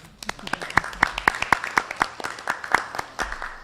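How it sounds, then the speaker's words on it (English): Applause at a school board meeting from a small group, with distinct individual claps in a steady rhythm, fairly close, over a quiet room with faint voices underneath. "Can we give them a round of applause?"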